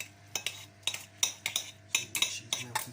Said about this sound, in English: So you're pulling it away from the sides and mixing it in.